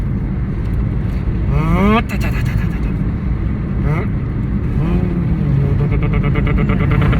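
A 1997 Honda Integra VTi-R engine idles with a steady low rumble throughout, while people talk over it.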